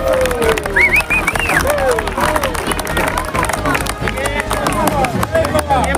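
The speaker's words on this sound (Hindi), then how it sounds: "तो गोवा के लोगों के लिए एक जबरदस्त ताली।" A crowd at a street protest in Goa against voting machines claps loudly and steadily for the people of Goa, with whistles and lively hubbub throughout.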